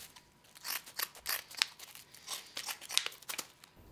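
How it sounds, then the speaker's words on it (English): Scissors snip through a fresh sheet of sandpaper with a rapid series of close, crisp crunching cuts and a papery rasp, used to hand-polish burnt wood, with no speech. "So every couple inches, had to cut a new piece of sandpaper"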